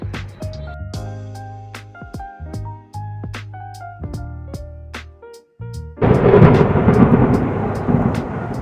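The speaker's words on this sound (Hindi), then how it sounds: "बारिश तो और तेज हो गई।" Heavy rain and thunder in the anime-style game Sakura School Simulator: deep rolling thunder with sharp cracks, then a loud, dense rush of downpour that stays steady to the end.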